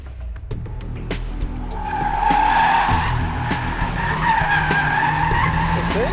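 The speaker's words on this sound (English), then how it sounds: "It took 118 feet to stop from 60." Mitsubishi Evolution GSR braking hard from 60 mph on a test track, tires squealing and skidding loudly for several seconds over a low engine rumble, with sharp clicks at the start and no talk.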